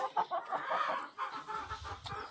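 Several hens cluck and squawk close by, a busy, overlapping chorus of short bursts, from laying hens in a poultry yard.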